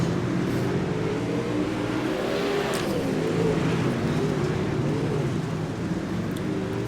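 Race cars roaring around a dirt speedway at Fairbury during a side-by-side battle for the lead on lap one, a steady, loud engine drone with rising and falling pitch as the cars power through the turns.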